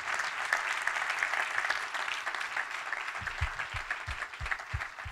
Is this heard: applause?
yes